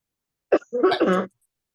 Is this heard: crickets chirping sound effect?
no